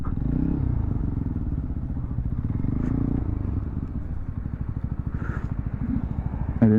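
A Zontes Scrambler 125 motorcycle is ridden close up, its small single engine putting out a rapid, steady pulsing thrum with a rough clattering edge, loud and continuous, and a brief revving rise at the very end.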